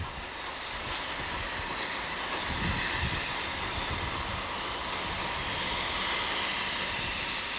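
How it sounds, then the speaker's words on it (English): A train arrives at a small station on a preserved single-track branch line, a continuous loud rumble of wheels and engine with broad hissing noise, steady and close throughout, with no talking. "Here is a train arriving at Damhams, 2 miles up the line."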